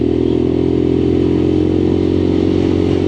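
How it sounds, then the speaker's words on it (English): A Lexmoto LXR motorcycle engine runs steadily at a smooth, even idle-to-cruise hum, close and continuous throughout with a low rhythmic throb and no talking. "this little LXR's purring along exactly like the other one"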